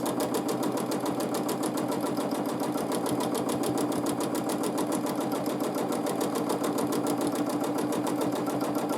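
A sewing machine stitches free motion quilting at a steady, fast pace, its needle chattering in a rapid, even rhythm over a continuous motor hum that runs close and unbroken with no voices.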